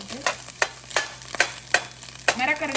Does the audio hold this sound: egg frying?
yes